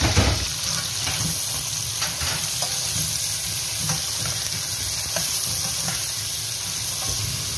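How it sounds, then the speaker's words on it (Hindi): Sliced onions sizzle steadily in hot oil while a spoon stirs them with intermittent scraping strokes, close and continuous throughout, no voices. "ऐल गर्म हो चुका है क्योंकि अभी हम प्याज डाल देंगे"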